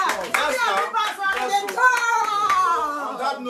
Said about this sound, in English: On that note, yes, clap for that now.